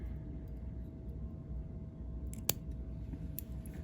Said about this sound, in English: Come in with your scissors.